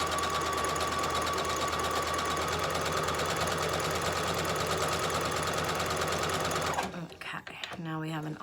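Sewing machine stitching a seam on a fabric face mask, a rapid steady mechanical whir close by for several seconds, then stopping as a voice speaks.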